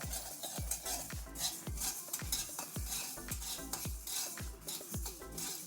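Mustard seeds pop and splutter in hot oil, with a quick series of sharp crackles over a steady sizzle and no voices.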